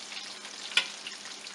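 Close, steady sizzle of catfish frying in hot grease, with one sharp pop of spattering oil standing out midway through the even crackle.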